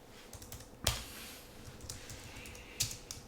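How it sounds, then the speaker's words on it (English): Someone types on a computer keyboard, quiet scattered key taps in a loose rhythm with two sharper, louder clacks, close by and without talk. "I'll type in test new on there."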